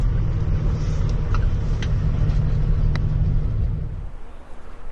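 A pickup truck backing a trailer into a shop rumbles steadily at low speed nearby with a few faint clanks, then its engine cuts out toward the end, leaving quiet.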